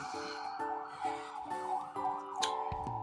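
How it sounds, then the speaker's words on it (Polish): A police car or ambulance siren wails in a repeating two-tone rising and falling pattern from the street, moderately distant and steady throughout, with no talk over it. "coś tam jedzie, policja pewnie, albo karetka"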